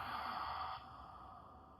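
Slow, steady exhale during a seated chair yoga shoulder release, a soft breathy rush that is louder at first and then tapers off quietly, heard close with no talking.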